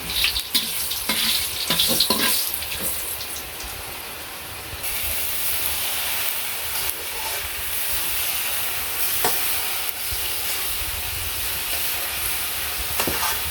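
Dried red chillies and bay leaves fry in hot oil in a large pot while cooking for a village puja feast, a loud, steady, close sizzle that runs continuously with occasional crackles and stirring.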